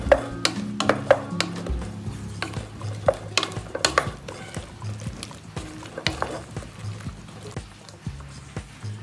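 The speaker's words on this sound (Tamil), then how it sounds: "இந்த தக்காளி பேஸ்ட், அது கூடயே இந்த மஷ்ரூமையும் போட்டுருங்க. போட்டு நல்லா வதக்கி விட்டுட்டு" Mushrooms sauté with tomato paste in a pan, a spoon scraping and stirring in irregular clatters and taps over a steady low sizzle, close and fairly loud, with no talk.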